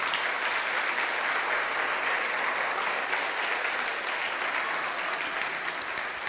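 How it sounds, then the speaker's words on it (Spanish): Steady, dense applause from a church congregation during a sermon, continuous and fairly loud with no speech over it. "Dele un aplauso a Jesús por ello."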